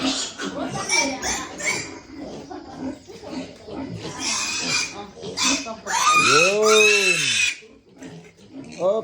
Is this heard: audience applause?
no